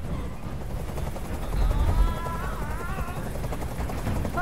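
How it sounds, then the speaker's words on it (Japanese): A helicopter hovering in the video game Detroit: Become Human gives a steady, loud rotor drone with wavering whine tones on top, continuous for a few seconds and heard alone. "あのヘリコプターをどこかにやってくれ"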